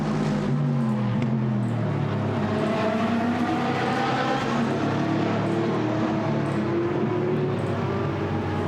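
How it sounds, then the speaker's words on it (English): GT sports race cars in the GT Sports Car Club main race at Misano in 2015 roar past through the final corner, a loud, continuous engine howl with rising and falling pitch as several cars sweep by close. "As they come through the final corner, there's Van Klabaker up in front"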